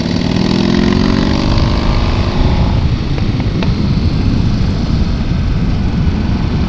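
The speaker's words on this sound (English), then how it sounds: "Like that, didn't downshift early enough." A Buell motorcycle engine drones loudly on a mountain road, its revs sweeping and falling before settling into a steady rough roar after a late downshift, close and continuous with no talk.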